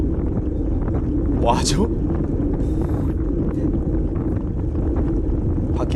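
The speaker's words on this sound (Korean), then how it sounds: "이런 바람 소리, 백색 소음 이런 거밖에 없을 것 같은데" Wind roars and buffets the microphone continuously while a cyclist rides a bicycle around the Centennial Park loop in Australia. The low rumble stays loud throughout, with someone speaking briefly.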